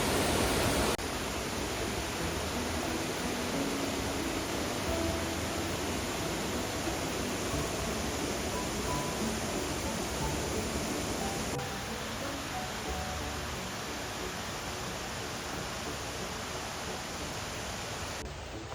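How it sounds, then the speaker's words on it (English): Waterfall beside a summer hiking trail: a steady, broad rushing roar that fills the whole stretch without a break and eases slightly later on, with no talking over it. "You can still hear the waterfall behind us."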